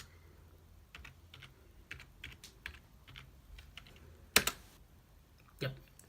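A computer keyboard tapped in a run of separate, quiet keystrokes while a name is typed, ending with two sharper, louder key presses, with faint speech underneath.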